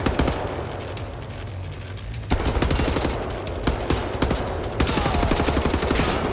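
Rapid, loud bursts of pistol fire from the video game Wolfenstein: The New Order, with sharp repeated shots in uneven clusters over a dense, noisy game soundscape.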